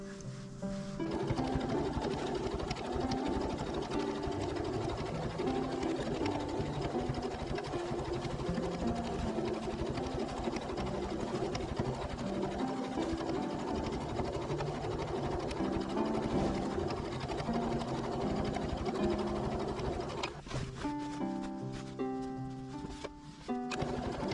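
A sewing machine runs a long continuous edge stitch along a fabric storage box, its motor whirring steadily and close for about twenty seconds before slowing and stopping with a few brief clicks.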